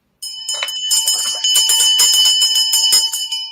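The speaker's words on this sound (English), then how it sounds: "Ring the bell." A bell rings loudly and continuously at close range, a bright metallic clatter with steady ringing overtones lasting several seconds.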